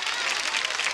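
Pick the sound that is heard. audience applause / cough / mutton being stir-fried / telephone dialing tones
audience applause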